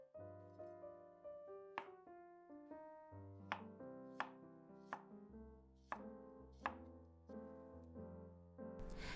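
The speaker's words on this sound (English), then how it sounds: "Slice carrot and cucumber into the same thickness as well." Carrot and cucumber are sliced thin with a knife: a series of crisp, evenly spaced cuts against a board, faint and close, heard over soft melodic background music.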